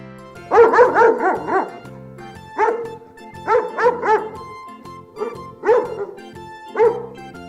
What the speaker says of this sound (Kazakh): Ит. Иттің баласы күшік.